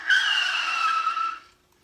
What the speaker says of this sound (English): There's the sound of brakes being applied.